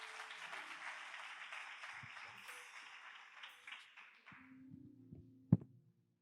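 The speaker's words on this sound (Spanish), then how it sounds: "Denle un aplauso al Señor" A church congregation gives a sustained round of applause that fades out after about four seconds. A single sharp knock and some low tones follow.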